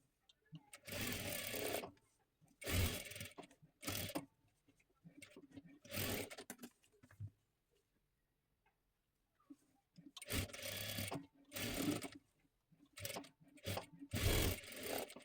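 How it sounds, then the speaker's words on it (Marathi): A sewing machine stitches the shoulder seam of a girl's frock cut from a bordered saree, running in loud close bursts of rapid mechanical whirring separated by pauses, with a longer quiet gap midway. "दोन्ही सुद्धा बाजू डबल शिलाई देऊन घ्यायची आहे."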